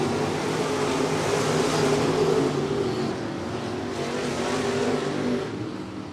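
Dwarf race cars in a heat race at I-37 Speedway roar steadily as a pack of engines holds a high, droning pitch at close range, with only a slight drop in loudness toward the end.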